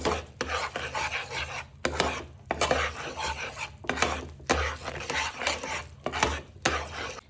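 Jaggery syrup for peanut chikki is stirred by hand in a pan, producing repeated rasping, scraping strokes in bursts with short pauses, close and fairly loud, no voices.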